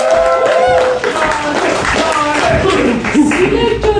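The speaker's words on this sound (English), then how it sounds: "Round of applause, please." Applause greets team members at an alumni improv comedy show, a steady wash of clapping mixed with crowd noise and voices talking over it.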